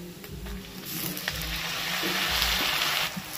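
Onion, grated coconut and two medium tomatoes frying in a pan for a banana flower and prawn dish, a steady close sizzle that swells as the tomatoes go in, with a few light stirring knocks.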